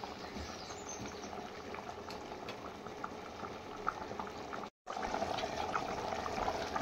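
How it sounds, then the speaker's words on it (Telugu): Goat head curry simmers in a pot with a steady, soft bubbling, quiet and close, broken briefly by a moment of silence before the boiling carries on. "అలాగే ఒక 10 నిమిషాలు కూరని ఉడకనిద్దాము"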